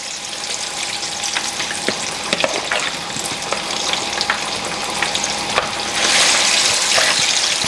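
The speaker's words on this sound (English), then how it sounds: "you deep fry your plantain" Plantain deep fries in hot oil with a loud, dense, steady sizzle and occasional crackling pops, rising slightly louder near the end, no voices.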